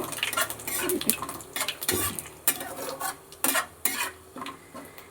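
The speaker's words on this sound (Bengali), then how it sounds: "এবার দেব গোটা জিরে, এটা একটু নেড়ে নেব" A spoon scraping and stirring whole cumin seeds with crushed whole garam masala in a pan, with rhythmic metallic clinks and scrapes and a faint sizzle underneath.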